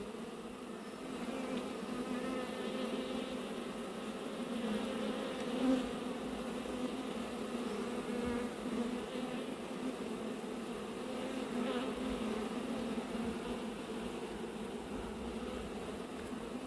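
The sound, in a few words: honey bees buzzing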